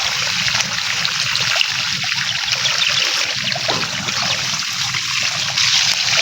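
Irrigation water runs and trickles steadily among calamansi trees in an orchard, a continuous close flowing wash with no talking.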